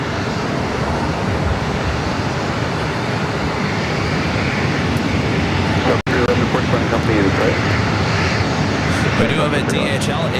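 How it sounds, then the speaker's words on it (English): An American Airlines Boeing 737-800 takes off at LAX, its jet engines producing a steady, broad roar that holds throughout at moderate distance, with a voice talking over it. "Our next takeoff is American Airlines Flight 646 heading to Vegas on the 737-800."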